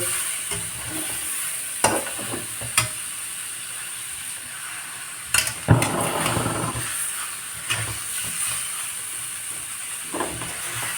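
Washed chicken being mixed into a hot pan for a Kerala curry with ash gourd and coconut milk: a low steady hiss with a few sharp clacks of the spoon against the pan and scraping bursts, no voices.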